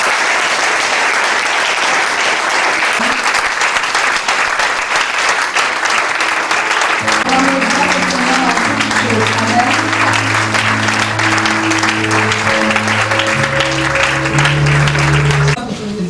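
A church congregation applauds steadily to acclaim the Lord during a service, dense continuous clapping throughout, joined midway by sustained organ or keyboard chords beneath the applause.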